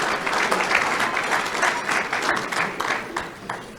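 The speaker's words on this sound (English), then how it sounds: "let's put our fork down and clap for our parents" A football banquet audience claps for parents, a sustained wash of dense applause from a large crowd indoors, steady and loud, tapering slightly toward the end.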